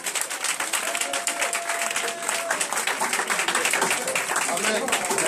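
A church congregation breaks into sustained applause and cheering for Jesus, a dense wash of many clapping hands that holds steady, with voices mixed in beneath it.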